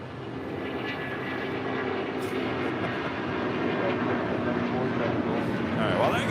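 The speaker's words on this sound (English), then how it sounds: "there goes the Air Canada A330" An Air Canada Airbus A330 departs LAX with a steady, broad jet roar that holds and slowly swells, close and loud throughout.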